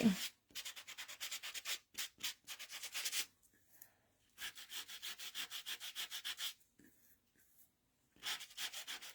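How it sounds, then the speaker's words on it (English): Sanding on a stamped paper card makes close, crisp rhythmic rasping strokes in quick bursts, separated by short pauses. "keep sanding that off until it gets the way you like it"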